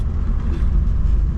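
A junkyard-rescued 1977 Ford LTD station wagon engine runs as the car drives, a steady low rumble close by with no talk over it.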